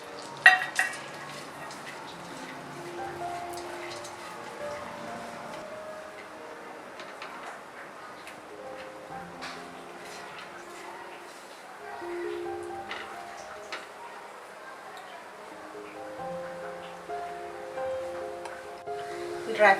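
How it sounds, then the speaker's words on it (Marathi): Chopped dry fruits roasting in a spoonful of ghee in a pan, with faint sizzling and light clinks of a spoon against the pan, heard softly and steadily throughout. "आता हे जे ड्राय फ्रूट्स मी कापून घेतलेत ते थोडेसे आपल्याला रोस्ट करून घ्यायचे आहेत"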